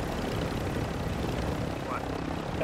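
A helicopter in the shooter game Warzone gives off a loud, steady rotor and engine roar that fills the clip, with a voice faintly underneath.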